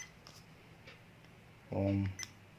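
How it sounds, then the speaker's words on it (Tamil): One short electronic beep from an AKASO Brave 4 action camera's menu sounds close by against a quiet, faintly hissing background. "இப்போ மெனு சேஞ்ச் பண்ண சொல்ல பீப் சவுண்ட் வருது இல்லைங்களா"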